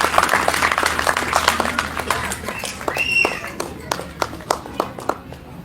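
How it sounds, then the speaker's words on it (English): Audience clapping for a USA Cricket player at a cricket academy event, a steady round of applause with sharp individual claps, over a background of crowd murmur and talk. "a big round of applause to him"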